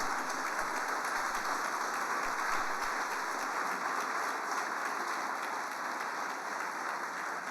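A church congregation claps together in sustained applause during a morning service, a dense, even patter of many hands that holds steady throughout without speech over it.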